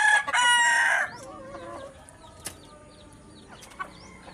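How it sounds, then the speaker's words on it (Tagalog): A rooster crows loudly up close, then hens cluck softly with a few scattered sharp calls in a quiet yard. "yan po yung mga inahin natin mga idol"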